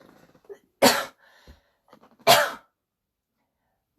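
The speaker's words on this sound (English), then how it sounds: "Am I gonna sneeze again?" Two sharp, loud sneezes from one person burst out close to the microphone about a second and a half apart, with quiet breathing and small sounds between them and little talking.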